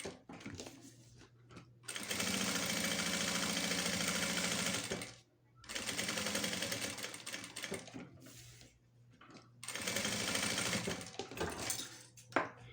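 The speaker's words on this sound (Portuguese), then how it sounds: "E faz a segunda costurinha de meio pé de máquina." A sewing machine stitches the lining of a fabric toiletry bag in two long, steady whirring runs broken by short pauses, close and fairly loud with no talk.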